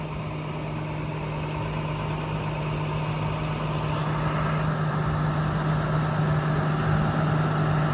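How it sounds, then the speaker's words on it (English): An International 4300 digger derrick with a two-speed auger runs at low RPM on the auger's low speed, giving a steady diesel drone with a deep hum that holds throughout. "he's obviously operating it at low RPM and on the low speed of the auger"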